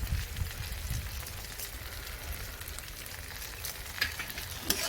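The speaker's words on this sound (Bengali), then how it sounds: "এবার আমি এটা ভালো করে একটু কষিয়ে নিই" Fish curry masala for doi katla sizzling and frying in a pan, a close, steady crackle with scraping stir strokes and a couple of sharper spatula knocks, no talking.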